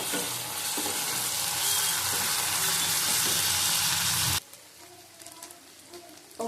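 Ginger and garlic paste sizzling loudly as it is sautéed in a pan with fried onions, a dense continuous hiss that cuts off abruptly, leaving only faint clinks and quiet background.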